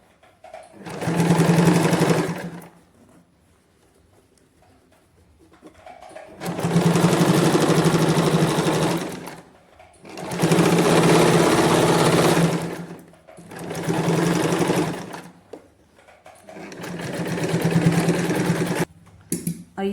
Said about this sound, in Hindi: अब हमने यहाँ पर इस तरह से इसको ये सिलाई के ऊपर पूरी प्रॉपर सिलाई लगा देनी है।